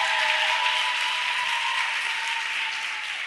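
A church congregation claps steadily at a Sunday Father's Day service, a dense, sustained round of applause that holds at an even loudness and fades slightly toward the end, with no talk over it.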